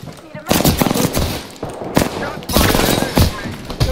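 Rapid automatic gunfire in the video game Apex Legends, loud close bursts of shots in several rattling volleys separated by brief gaps, with voices faintly under it.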